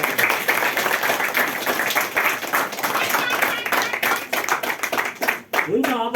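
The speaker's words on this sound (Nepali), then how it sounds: "उहाँलाई पनि ताली बजाउँ।" An audience at a wedding ceremony breaks into brisk, sustained clapping that fills the space, with voices audible through the applause before it thins out at the end.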